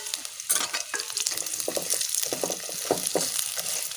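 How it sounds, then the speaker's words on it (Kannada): Cut jackfruit seeds frying in oil in a pan, giving a bubbling sizzle with intermittent stirring clatter, close and moderate in level. "ನಾವು ಇದನ್ನು ಎಣ್ಣೆಯಲ್ಲಿ ಚೆನ್ನಾಗಿ ಫ್ರೈ ಮಾಡಿಕೊಳ್ಬೇಕು"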